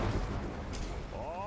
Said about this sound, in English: Got my missile launcher right here.